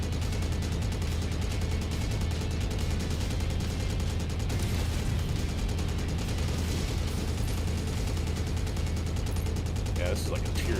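Sustained rapid machine-gun fire from a mech's twin machine guns in MechWarrior 5: Mercenaries, a dense continuous clatter that stays loud throughout, with sharper bursts near the end.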